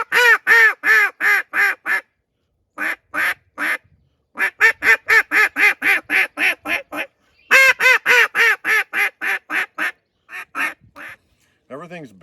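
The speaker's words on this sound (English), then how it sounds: "Everything's based off of a quack in this call" A handheld duck quacker call blown in rapid runs of sharp, nasal quacks, close and loud, with short pauses between the series and a brief voice near the end.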